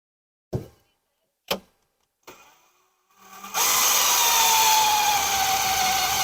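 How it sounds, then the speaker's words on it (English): A few sharp knocks sound in quiet, then a power drill drilling holes into a car's cross member for a battery mount starts a loud, steady whirring drone that runs on without a break. "So let's get drilling."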